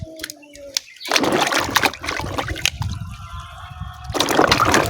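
Ginger and pumpkin leaves are washed in water, with splashing, swishing and trickling that swells at the start and again near the end and stays close and fairly loud, with no talking over it.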